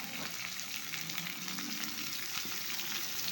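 Two large onions, sliced thin, sizzle in a hot pan in the kitchen, giving a steady close hiss with small crackles and occasional stirring and no talk.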